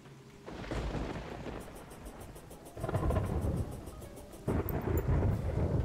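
Thunderstorm in the video game Terraria: a steady wash of rain and wind swells into heavy rumbling thunder twice, loud and close, with no voices.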